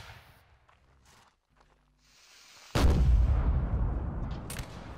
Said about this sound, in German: Hast du gerade geschossen und deine Muskete nachgeladen?